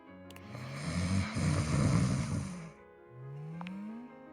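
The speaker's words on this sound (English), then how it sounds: "He snores quietly" Keith, an elderly character in the dating game Date Everything, snores once with a long rumbling inhale, then gives a softer rising exhale, heard close and alone.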